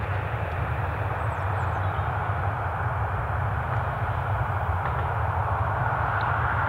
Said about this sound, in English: Looks like Ryanair have got their Dublin flight on the move as well.